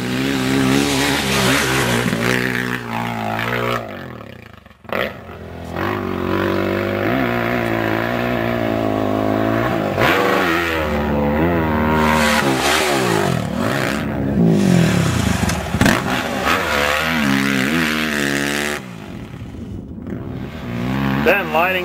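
A motocross bike roars across the Glamis sand dunes, its engine winding up and down through the gears with wind rush, loud and near for over twenty seconds.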